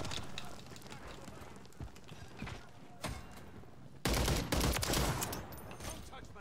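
Gunfire in a video game shooter, with sharp bursts and a louder volley of shots partway through over a busy background of game sound, fairly close.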